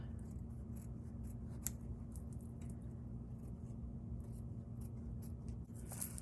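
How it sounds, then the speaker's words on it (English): Scissors snip through wash-away embroidery stabilizer in a few quiet, scattered cuts, close up over a soft steady background hum. "I'm going to trim away the wash away stabilizer."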